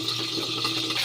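Pointed gourd (potol) dropped into hot oil sizzles and splutters, a dense, steady hiss with faint crackles, close and loud throughout.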